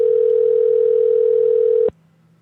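A telephone line that will not connect gives a loud, steady dial tone that holds for about two seconds and then cuts off abruptly.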